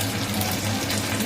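A small amount of water poured into a cooking pot, a short steady splashing stream heard close and alone.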